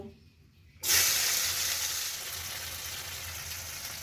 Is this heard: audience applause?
no